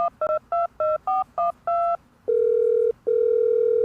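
Telephone keypad tones beep in a quick run of about eight short dual-tone presses, followed by two long ringback tones, clear and close with no voices.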